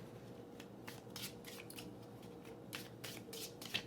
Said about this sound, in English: Pile number one, I'm shuffling for your energy.